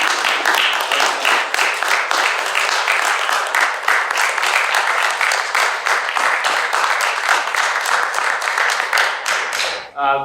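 Audience at a panel discussion on the politics of work gives a loud, close round of applause, with dense steady clapping lasting about ten seconds before it cuts off.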